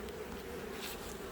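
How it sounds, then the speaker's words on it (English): Honey bees buzz steadily around an opened hive during an inspection, a soft continuous drone close by with no talking. "I want all the bees to have plenty of time to move out of the way"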